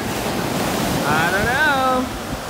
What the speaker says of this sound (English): the waves are trying to help it